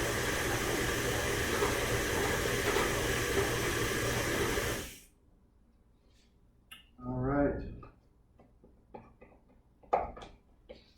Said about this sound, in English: I'm going to turn on the mixer and I'm going to stream in the cream as it's mixing.